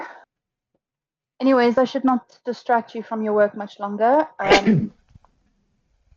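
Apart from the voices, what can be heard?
sneeze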